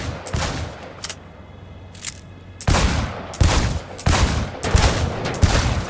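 Gunfire at a shooting range in Cyberpunk 2077, several loud, sharp bursts of rapid shots separated by short gaps, then near-continuous firing in the last few seconds, close and without speech.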